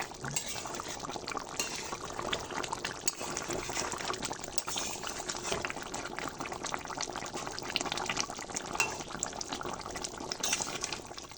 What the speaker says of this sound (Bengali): খুব ভালো করে আলু মাংসগুলো সিদ্ধ হয়ে গেছে এবার আমি চুলা থেকে নামিয়ে নেব